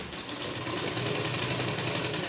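A sewing machine runs steadily, stitching the neckline of a V-shaped blouse, with a fast, even, continuous whirring rhythm that stays close and constant throughout, without any speech.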